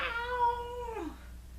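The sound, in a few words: reader imitating a cat's loud meow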